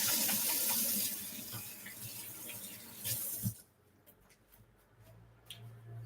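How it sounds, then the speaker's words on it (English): Hands being washed under a running kitchen tap: a loud, steady gush of water for about three seconds that then cuts off, leaving a faint hum and a few small ticks. "gonna wash my hands"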